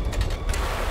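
A key turns a mechanism in the Syberia video game, giving a few quick, close mechanical clicks and a short ratcheting creak over a low hum.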